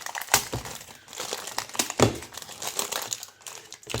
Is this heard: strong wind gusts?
no